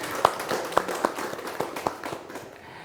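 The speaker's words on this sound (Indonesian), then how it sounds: "Beri tepuk tangan untuk narasumber unggul kita." Sparse, scattered hand claps from a small audience for a guest speaker at a health seminar, a handful of distinct claps fading out within about three seconds.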